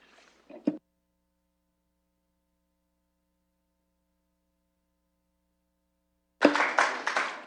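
Audience at a public transit working-group meeting claps in a short burst, then near silence, then a louder round of applause erupts near the end.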